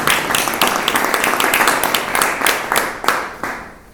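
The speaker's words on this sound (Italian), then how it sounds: "Facciamo un applauso fuori" Audience applause at an Italian public literary event in Aquileia, a steady wash of many hands clapping close by that thins out toward the end, with a few louder individual claps standing out.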